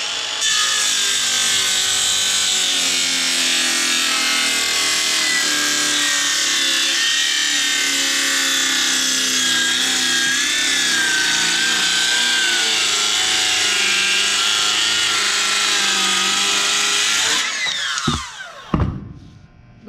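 A cordless circular saw cuts freehand through wood along a slight curve, a loud sustained whining rip that holds steady for about seventeen seconds, then bogs down and cuts off with a few abrupt thumps at the end.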